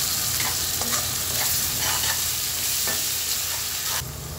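Spices, garlic paste and salt are stirred through onions in a hot pan, giving a dense close sizzle broken by repeated spatula scrapes, with the frying hiss dropping away abruptly near the end.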